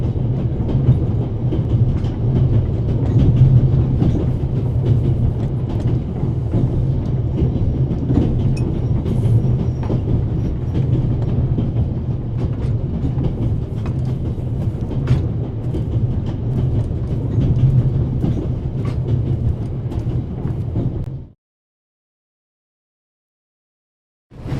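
Railway carriages roll steadily in the game The Raven Remastered, a loud continuous rumble with rhythmic clickety-clack from the wheels, running unbroken before cutting abruptly to silence near the end.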